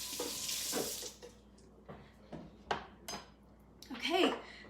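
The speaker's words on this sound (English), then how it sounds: "Rinse that off for the next one." Tap water runs over a utensil as it is rinsed at a sink after making flavor-infused water, with short splashing bursts and light clinks, fairly quiet and close.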